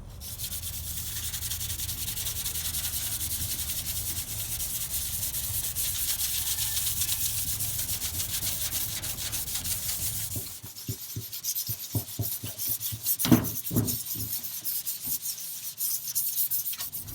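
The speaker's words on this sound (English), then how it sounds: "we're pretty much done sanding it all the way around and from the inside too" Steady abrasive sanding scrubs across a trailer's outside surface for about ten seconds, then gives way to scattered knocks and rubbing, one louder clunk standing out, with no talk.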